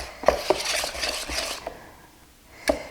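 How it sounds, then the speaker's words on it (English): A whisk stirs financier batter in a bowl to break up lumps of powdered sugar, giving soft continuous swishing with a few sharp clinks of metal against the bowl near the start and end. "I'm going to use this whisk a little bit because there are still some lumps of powdered sugar"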